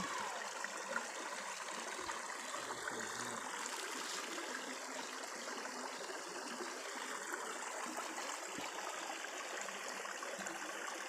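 Steady rushing water flows continuously, a broad, even wash of stream noise with no voices over it.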